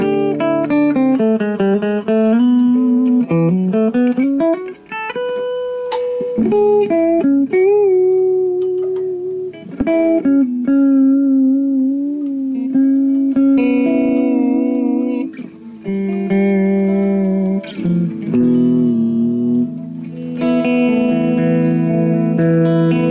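A Tanglewood AS39F acoustic guitar played clean with no effects or reverb, giving loud, close plucked notes and strummed chords with sustained ringing tones and brief pauses between phrases, with no speech.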